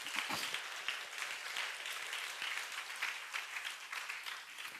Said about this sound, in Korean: 우리 박수로 하나님께 영광 드리겠습니다.